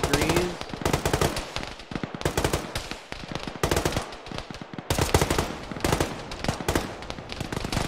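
Long bursts of rapid machine gun fire in the military game Arma, loud and close, rattling in several sustained volleys separated by short gaps.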